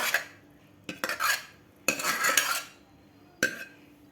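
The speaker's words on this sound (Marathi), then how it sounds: "आता आपल्या कढईमध्ये खीर काढून घ्यायची आहे, म्हणजे शिजलेले गहू." Cooked wheat kheer scooped into a kadhai with metal utensils, a few close scraping clinks and spoon knocks in short separate bursts with quiet gaps between them.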